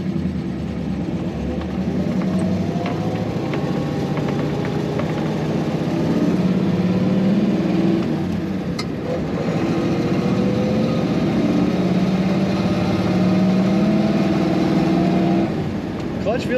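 A 1935 Ford Cabriolet engine runs steadily from inside the car, a continuous hum whose pitch rises gradually as it accelerates, then settles and climbs again, with someone talking over it much of the time.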